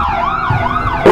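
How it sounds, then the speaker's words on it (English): A police car siren wails with a rising and falling tone for about a second, loud and close, with no talk over it. "Police car?"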